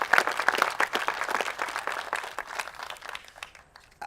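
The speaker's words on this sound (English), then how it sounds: "Can we get a round of applause for that?" An audience at a park groundbreaking ceremony gives a round of applause, dense clapping that starts strong and gradually thins and fades over about four seconds.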